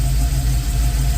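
A Box Chevy engine on ACES Jackpot fuel injection idles loud and close, giving a steady low rumble with a slight shake. No talk.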